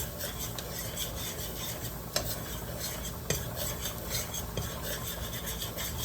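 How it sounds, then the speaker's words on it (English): Steady scraping and rasping of a utensil stirring flour into a chicken tetrazzini sauce in a pan, continuous and close with a few sharper clinks against the pan, no voices. "And keep stirring."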